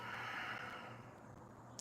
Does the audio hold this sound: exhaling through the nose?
yes